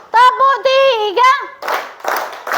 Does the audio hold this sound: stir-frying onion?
no